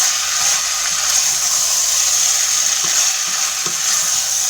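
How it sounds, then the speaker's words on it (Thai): Thai red curry with pork belly is stirred in a hot pan, giving a steady close sizzle and frying hiss broken by soft scraping stir strokes, with nobody talking. "แล้วก็คนเลยนะคะ"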